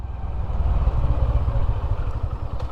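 A Honda Hornet CB125 motorcycle idling close by, a steady low throbbing engine rumble with light mechanical clatter, no voices.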